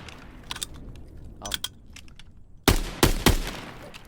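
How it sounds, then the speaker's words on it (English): AS-44 prototype Russian assault rifle firing in Call of Duty: a few sharp clicks early, then a loud burst of several close, heavy shots near the end, with no talk. "Next is the AS-44, which is a prototype Russian assault rifle"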